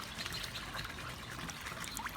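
Water trickles off soaked goji berry plants in a container, a faint, steady dribble with small splashes scattered throughout and no voices.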